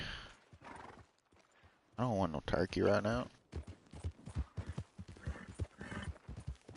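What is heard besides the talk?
horse neighing and hooves clip-clopping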